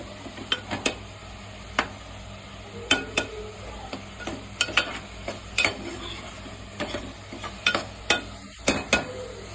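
Ginger, garlic and onion paste frying in oil in a pot, a faint low sizzle broken by sharp spoon clicks and scrapes against the metal at irregular intervals, close by, with no speech.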